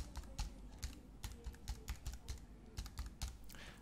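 Rapid keyboard typing as details and an email address are entered into a web form, an uneven run of close, crisp key clicks with brief pauses, no talking.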